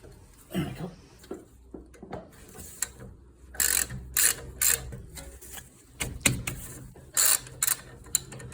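A socket ratchet clicks in repeated short bursts of sharp metallic ticks on a brake caliper bolt of a 1991 Honda Civic 1.6 VTi, close and crisp, with quiet pauses and some handling noise between strokes.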